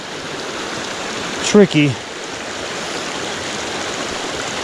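A mountain creek rushes steadily at a trail crossing near 11,600 feet on Mt. Belford's southwest slopes, a loud, continuous broadband flow that briefly sits under a short spoken word from someone nearby.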